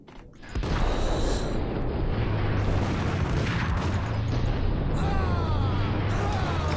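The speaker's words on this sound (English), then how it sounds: "Oh my god, that's a powerful grenade." A powerful grenade explodes in the Max Payne shooter game, a loud close boom that rolls into a sustained rumbling blast and debris noise lasting several seconds.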